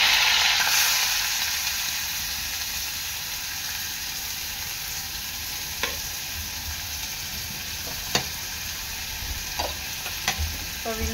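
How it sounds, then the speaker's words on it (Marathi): Curry leaves and finely chopped onion fry in hot oil, a loud, continuous sizzle that fades slightly after the first moment, with occasional clinks and scrapes of stirring near the end. "तेल चांगलं गरम झालेलं आहे। यामध्ये टाकते मी कढीपत्ता, बारीक चिरलेला कांदा,"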